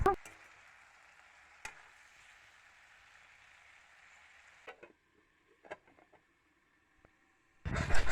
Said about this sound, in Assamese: ৰেড চিলি মছলা দিয়াৰ পিছত লৰাই পেলানি অলপ ঢাকি দিছোঁ।